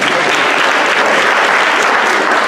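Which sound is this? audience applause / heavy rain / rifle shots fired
audience applause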